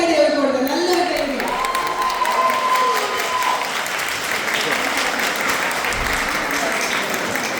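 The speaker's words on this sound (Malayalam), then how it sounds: "നല്ലൊരു കൈയടി അവർക്ക് കൊടുക്കുക, നല്ലൊരു കൈയടി" Audience applause following a Margamkali performance, a steady broadband clapping that fills the clip, with voices and brief vocal sounds over it early on.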